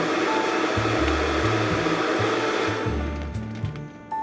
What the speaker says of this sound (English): We're gonna put this on the Vitamix.